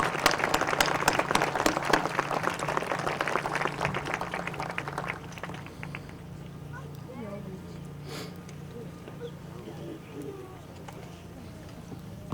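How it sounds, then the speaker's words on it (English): Audience applause at a Veterans Day ceremony in Palmdale, California: dense clapping for about six seconds that thins and fades, leaving soft outdoor ambience with faint birdsong and distant voices. "Big round of applause"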